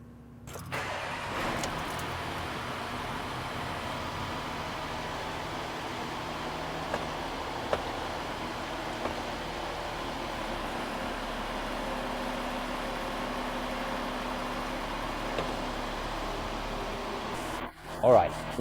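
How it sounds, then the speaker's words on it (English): A Porsche engine in neutral during an oil change on its TR80-SD 8-speed automatic transmission, held at a steady raised idle around 2000 RPM, making a constant close hum before it cuts off near the end. "In neutral, you then rev the engine up to 2000 RPM and hold it there for about 60 seconds."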